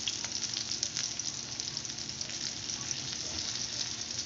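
Stuffed bitter gourd (karela) sizzles steadily in hot oil, a dense crackling fry with no pauses, close and fairly loud, with faint stirring now and then.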